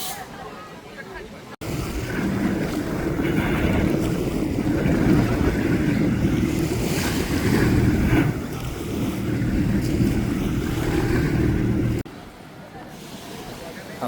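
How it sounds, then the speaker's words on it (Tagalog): Steady engine drone and rushing wind and water from a boat on the sea at Boracay, with a voice talking over it; the noise drops off briefly at the start and end. "ayan, sakay na po kami sa bangka namin"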